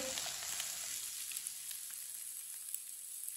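An omelette with finely chopped cucumber fries in a pan, giving a steady, quiet sizzle that runs unbroken with a few soft crackles and no voices.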